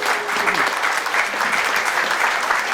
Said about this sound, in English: Will you give him a round of applause